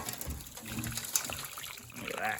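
Water trickles and dribbles from a part of an LC Torana project car, a close, light splashing flow with someone talking over it.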